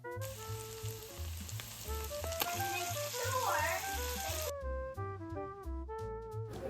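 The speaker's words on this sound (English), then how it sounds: "you want to take your tortilla and flip it" A flour tortilla made with bacon fat sizzles in a hot pan, a steady close crackle that cuts off partway through while a light melodic tune plays on.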